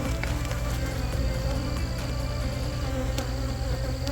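Honey bees buzz at an open tree hive during beekeeping work, a dense continuous drone of many insects close by, steady and loud with occasional individual bees passing near.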